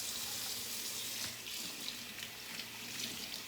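Tap water runs steadily into a sink while Nama juicer parts are washed, a close, continuous splashing hiss with small knocks throughout.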